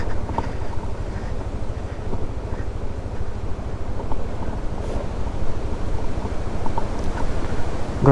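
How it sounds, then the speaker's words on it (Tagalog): Steady, loud wind in the Sierra Madre mountains buffeting the microphone on a downhill stretch, a constant low roar throughout with gusty rumble. "Grabe lakas ng hangin."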